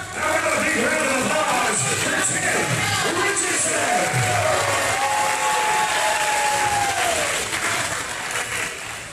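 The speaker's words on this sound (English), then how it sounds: "The crowd is loud, raucous, and ready to go." Crowd at a wrestling anniversary show cheering and applauding in a continuous loud roar of clapping and shouts, with a few rising whistles and yells, while a voice speaks over it.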